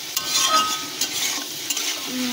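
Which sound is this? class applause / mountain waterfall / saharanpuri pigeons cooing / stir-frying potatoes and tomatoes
stir-frying potatoes and tomatoes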